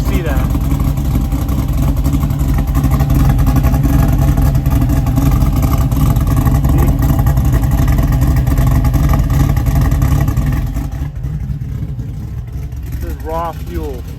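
A car engine with a faulty carburetor dumping raw fuel runs loud and close in a steady, rough drone, then drops off sharply near the end, where a brief voice is heard over the quieter remainder.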